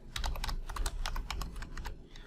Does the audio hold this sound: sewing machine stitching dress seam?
no